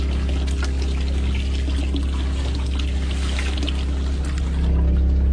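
A repaired watermaker (desalinator) on a boat sends a steady trickle of water running close by, with a constant low pump hum underneath. The hum rises slightly toward the end.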